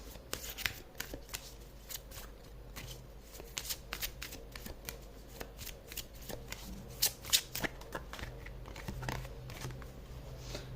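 A deck of tarot cards is shuffled by hand for a long stretch, giving a steady run of quick papery riffles and slaps at close range, with no talk over it.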